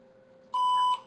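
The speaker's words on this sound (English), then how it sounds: "It does a beep." A PenFriend audio labeling pen gives a single clean electronic beep as it is switched on: one steady high tone of about half a second over a faint hum, then silence.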